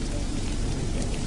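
Steady rain falls continuously at a close, even level, a dense hiss of drops on surfaces with no voices over it.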